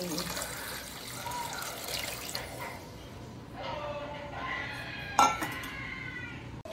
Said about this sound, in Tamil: இந்த தண்ணி தான் நம்ம இப்போ ஊற்ற போகிறோம்